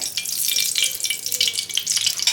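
Refined white oil heating in a saucepan gives a steady close hiss with light crackling, running throughout without talk.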